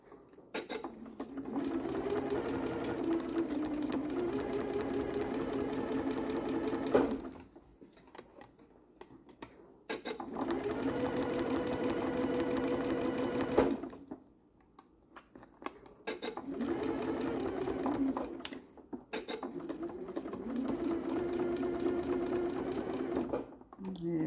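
A sewing machine stitches quilt fabric for a curved quilt block, running in three long sustained bursts of steady mechanical whirring separated by short pauses, close and fairly loud.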